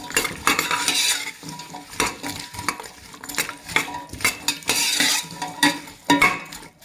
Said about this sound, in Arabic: ندي تقليبه كويس.